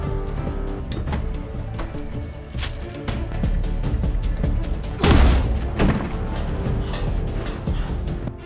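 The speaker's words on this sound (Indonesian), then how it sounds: "Ketika orang-orang kiriman Ty berhasil memasuki apartemen itu, terjadi sebuah ledakan" A film-scene explosion of explosives left in an apartment oven, heard as a loud boom with a heavy broadband burst about midway, set among continuous rumbling thuds and dense low action noise with no speech.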